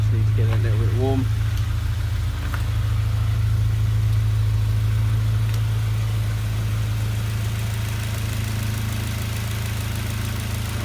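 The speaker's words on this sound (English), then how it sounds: "Car's ready, been warmed up for a couple of minutes." Honda EP3 race car engine idling steadily to warm up, a strong low hum with a constant even drone close by, and a brief voice murmur near the start.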